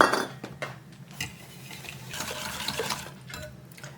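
A hand whisk clinks and scrapes around a bowl of sugar, soft irregular metallic strokes with a gritty texture, close and fairly quiet.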